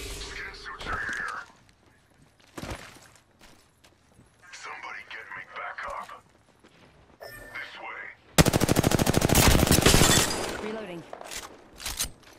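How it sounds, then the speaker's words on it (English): Video game gunfire: scattered single shots early, then a loud, sustained burst of rapid automatic fire near the end, with a player talking between the shots. "Opening fire."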